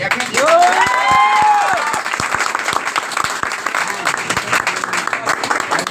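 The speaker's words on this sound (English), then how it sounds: "please clap for him" Applause from an audience at a student-of-the-year ceremony for an English speaking class, a loud dense burst of clapping with cheering and shouting that fades into scattered claps as a voice talks over it.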